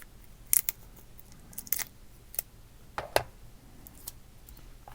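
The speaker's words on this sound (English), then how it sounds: "And cut the tape here." Scissors snip through packing tape on a mail package in a series of sharp, separate cuts, with a quiet background between them and no talking.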